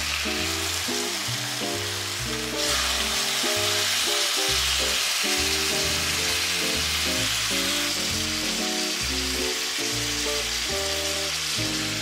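Meat searing in a pot with barbecue sauce, a loud, steady sizzle and crackle running throughout, growing slightly more intense partway through, with rhythmic low tones of background music underneath.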